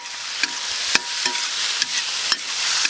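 Celery being stir-fried with spicy pork intestines in a wok, a loud hissing sizzle with a few sharp clacks of the spatula scraping and tossing, close and alone without talk.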